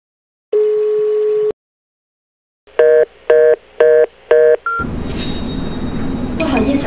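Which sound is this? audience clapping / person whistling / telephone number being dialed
telephone number being dialed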